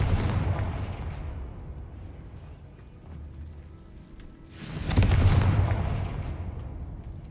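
Two Confringo blasting spells go off in Hogwarts Legacy, each a booming explosion that rumbles and decays slowly. The first is already fading at the start, and a second, louder blast hits midway and rolls off.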